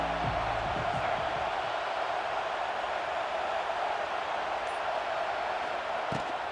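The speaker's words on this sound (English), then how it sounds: "This crowd ready to make its presence known." A packed football stadium crowd at a pre-season college game between Texas A&M and UCLA roars as one steady, loud wash of cheering that holds for the whole stretch without a break.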